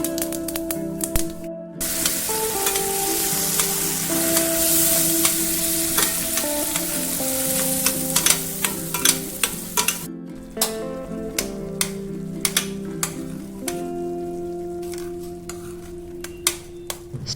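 Onion and curry leaf chutney with its tempering cooks in a kadai, loud hissing sputter at first, then fading into a stream of sharp, rapid spoon clacks against the pan, close and steady with no speech.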